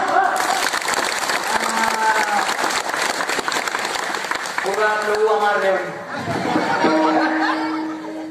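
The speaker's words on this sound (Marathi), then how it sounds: "टाळ्या वाजवायचं तर अशा अंतःकरणातून दणक्यात वाजल्या पाहिजे" An audience at a Marathi kirtan claps in dense, loud applause mixed with laughter and chuckles, and a voice calls out over the crowd noise.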